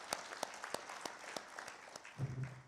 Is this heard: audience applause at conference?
yes